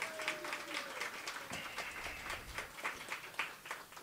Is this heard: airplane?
no